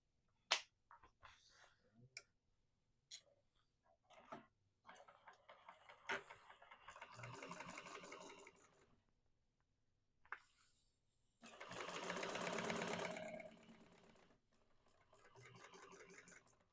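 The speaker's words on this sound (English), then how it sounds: "we're going to top stitch on both sides of that bottom seam" A sewing machine top stitches a seam, starting and stopping in short bursts of rapid mechanical ticking, with sharp clicks and a longer steady run near the end, quiet and close.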